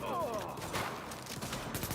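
Gunfire in The Division, a dense fusillade of overlapping shots in a firefight with continuous battle noise, and a voice briefly audible in the mix.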